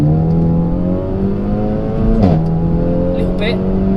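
A car on Yokohama Advan Neova AD09 tyres accelerating hard in second gear, the engine's loud rising drone heard from inside with a brief dip around a shift or wheelspin, while the driver speaks over it.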